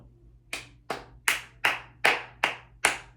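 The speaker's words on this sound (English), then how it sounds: "see if you can clap it back for me at the same time" Hands clap out a rhythm, seven crisp, close claps with clear gaps between them, the first after a brief pause and the rest evenly spaced, alone in a quiet room.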